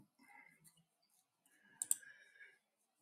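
Faint mouse clicks open a folder on a desktop computer, a quick double click standing out amid soft, scattered clicking sounds.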